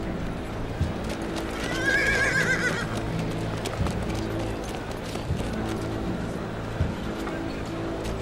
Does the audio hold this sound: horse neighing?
yes